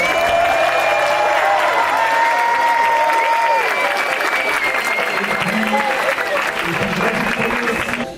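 Sustained crowd applause at the Ekiden 2025 running event for the organizing sports team, loud dense clapping with some cheering that carries on steadily throughout, with voices mixed in.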